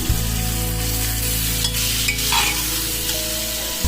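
Tomatoes and peas sizzle in a pan of browned onions while being stirred, a steady close frying hiss with occasional scraping, for an egg biryani.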